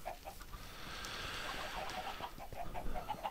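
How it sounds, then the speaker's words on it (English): Minecraft chickens cluck repeatedly in a rapid, fairly quiet series of short clucks over soft background noise, with no talk. "those chickens are noisy today"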